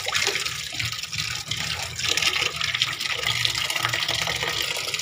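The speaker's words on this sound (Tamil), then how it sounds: "மஞ்சத்தூள் போட்டு நல்லா க்ளீனாக கழுவணும்." Green grapes being washed by hand in water mixed with turmeric: steady, close sloshing and swishing of water that runs on without a break and with no talking.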